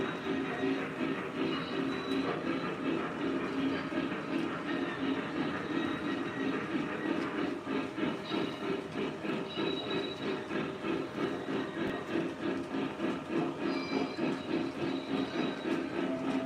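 A Vision Line Class A model train running on its track, a steady close whirring rumble with faint rhythmic clicking of wheels on rail joints and a few high squeals over it.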